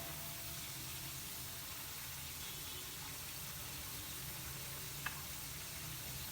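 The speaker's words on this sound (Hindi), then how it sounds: "लहसुन अदरक के पेस्ट को हल्का सा हमने बस ब्राउन करना है।" About 1.5 spoonfuls of garlic and ginger paste frying in a pan, a soft, even sizzle held at low level throughout, with one faint tick near the end.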